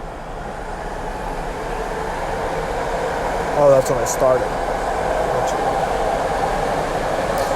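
A BART train rumbles past near a car parked in a parking lot, a steady broad roar throughout with brief squeals, while a person talks inside the car.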